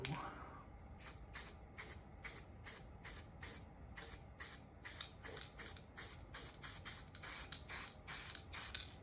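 Paint sprays through a stencil from a Cyclone 5 sprayer in a long series of short, evenly spaced hissing bursts, close but fairly quiet, each pulse sharp and airy with brief gaps between.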